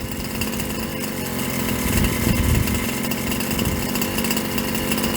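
A Rampage 36cc gas engine running steadily during break-in, a loud, continuous buzzing drone close by with a slight swell in revs partway through.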